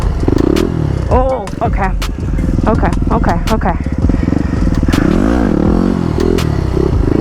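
A supermoto motorcycle engine revs hard in second gear, rising and falling pitch sweeps under a voice, with clattering mechanical noise throughout.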